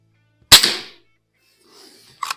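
A single sharp crack from a Norica Variatus 2.0 .22 bullpup air rifle firing at an outdoor range, loud and close, with a quick decaying tail, a faint sound after about a second, and a brief thud near the end.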